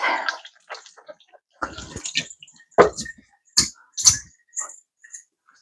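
Water running and splashing in short, uneven bursts as a green pepper is rinsed under a kitchen tap, close and fairly quiet with brief silent gaps between splashes.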